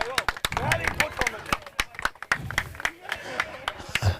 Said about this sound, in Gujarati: જોરદાર તાળીઓ મિત્રો માટે